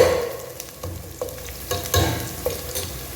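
Onions and green chillies for a fish curry sizzle in a pan while a spoon scrapes and stirs, with intermittent knocks against the metal, loud and close with no talk.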